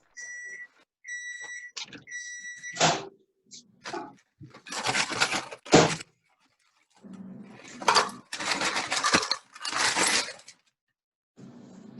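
A kitchen microwave runs with a few steady electronic beeps at the start, followed by bursts of door clatter and broadband whirring noise, moderately close and with no talking.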